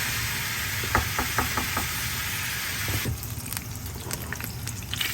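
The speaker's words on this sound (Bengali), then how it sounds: "এখানে আমি কয়েকটা আলু হলুদ লবণ মাখিয়ে রেখেছি এখন আমি ভেজে নেব" Potatoes coated with turmeric and salt fry in a pan with a steady, close sizzling hiss, joined by a few light knocks early on and a busier crackle later.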